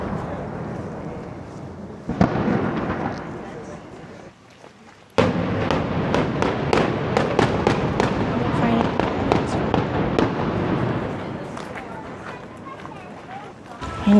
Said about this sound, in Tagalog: May festival opening pala kaya may cannons.